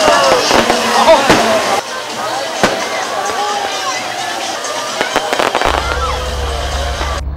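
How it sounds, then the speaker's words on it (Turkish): New Year's midnight fireworks display over a crowded square in Marmaris, with bursts and crackles over a steady crowd din and voices, ending in a low continuous hum. "vatandaşların eğlencesine havai fişek gösterisi renk kattı."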